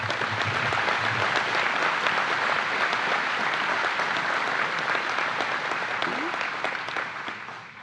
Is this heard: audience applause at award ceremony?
yes